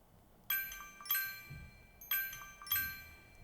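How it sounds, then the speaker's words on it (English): Timer alarm on a Fitbit Ace LTE kids smartwatch: bright chiming tones repeat in pairs, four strikes in all with ringing decays, clear and close in a quiet room. "There you can hear the sound and it is vibrating as well."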